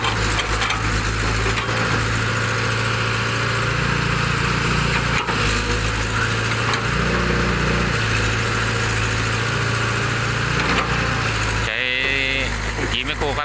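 A PC100 excavator's engine idles with a loud, continuous diesel drone that stays steady throughout. People talk over the engine, and a brief change in the engine noise comes near the end.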